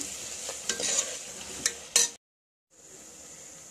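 Chopped onions with salt sauté in a pan for mutton kulambu. A close sizzle is broken by scraping stirs and brief clatters, then cuts to a moment of silence before the steady frying resumes.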